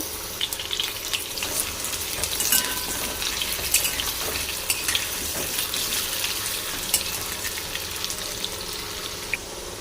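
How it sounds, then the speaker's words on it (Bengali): Potatoes frying in oil in a pan for a vegetarian pumpkin and potato curry: a steady dense sizzle runs throughout at close range with scattered crackles and pops, no voices. "আলুটা দিয়ে দিলাম, লাল করে ভেজে নেব।"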